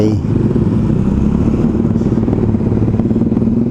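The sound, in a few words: inline-four motorcycle engine revving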